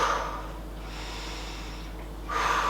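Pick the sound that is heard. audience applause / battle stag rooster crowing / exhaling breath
exhaling breath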